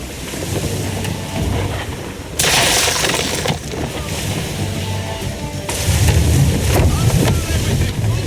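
A sailing ship at sea in Assassin's Creed 3 carries steady wind and rushing water over a low creaking hull, with surges of spray and gusts. A voice speaks briefly over it.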